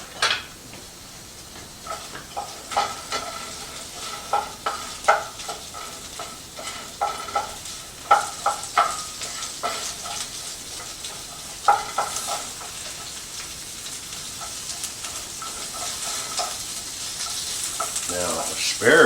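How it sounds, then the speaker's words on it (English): Chicken sizzling in oil with salt and pepper, a steady frying hiss broken by repeated clinks and scrapes of a utensil stirring in the pan, close and continuous. "And stir."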